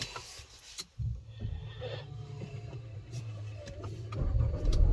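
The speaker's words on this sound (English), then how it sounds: "let's start the car up so I can move the steering wheel" A 2022 Nissan Qashqai engine cranks over at about one second and settles into a steady, fairly loud idle that holds to the end inside the cabin, with a few faint clicks above.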